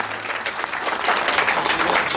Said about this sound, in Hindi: एक बार जोरदार तालियों से आप इनको आशीर्वाद दें